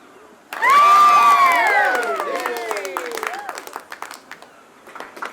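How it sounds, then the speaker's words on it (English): A crowd cheers and shouts loudly, then the noise fades into scattered clapping that continues for a few seconds. "A bit of clapping there."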